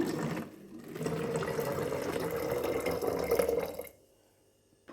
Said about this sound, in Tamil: ஒரு பாட்டிலில் வந்து ஊற்றி வச்சுக்கலாம்